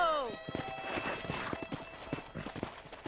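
Horse hooves clip-clop in Red Dead Redemption, a steady run of close, distinct hoofbeats that follows a brief whinny and keeps going under a voice talking.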